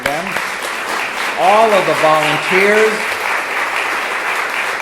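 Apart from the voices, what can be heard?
audience applause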